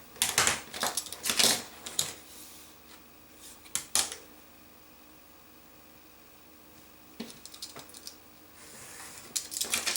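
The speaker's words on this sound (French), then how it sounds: "Voilà, je vais couper." Paper is cut by hand for storing die cuts, heard as several crisp, close snips in short bursts separated by quiet pauses.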